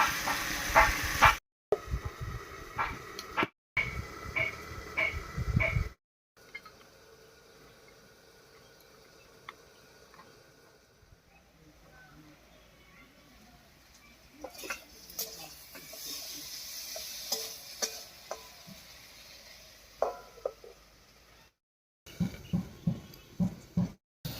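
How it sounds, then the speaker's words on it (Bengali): Soft sizzling of potatoes with turmeric frying in a covered pan, a low steady hiss broken by occasional clatter and louder bursts at the start and end. "ঢাকা দিয়ে দিয়ে একটু ভাজা ভাজা মতো করে নেব"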